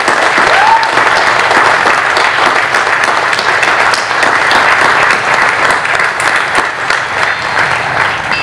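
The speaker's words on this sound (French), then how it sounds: "On va l'applaudir bien fort" A large outdoor crowd at the Madone des motards bikers' blessing in Porcaro claps loudly and steadily for over eight seconds, a dense wash of applause close at hand.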